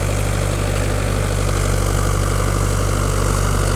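Tractor ploughing a farm field; a loud, steady low engine drone with constant humming tones, close by and continuous, with no talking.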